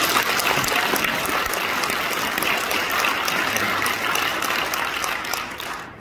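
A crowd at a church-hosted forum breaks into dense, continuous applause, loud and close, which holds steady before tapering off at the end.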